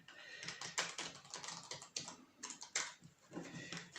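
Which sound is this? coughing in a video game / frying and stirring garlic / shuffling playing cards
shuffling playing cards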